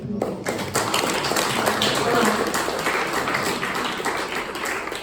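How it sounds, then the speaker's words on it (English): An audience claps after a question-and-answer session, with a burst of hand claps starting and continuing as a dense, fairly close patter, with voices mixed in. "Well, you can clap."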